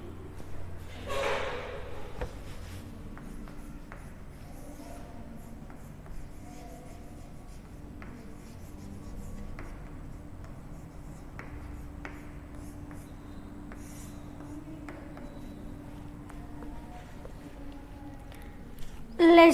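A teacher writes on a classroom board in scattered short scratching and tapping strokes, faint and somewhat distant, with low room noise and little talking.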